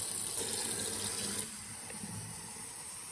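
Water running from a newly installed SimPure V7 under-sink filter faucet, a steady close hiss of flow that drops slightly in level partway through.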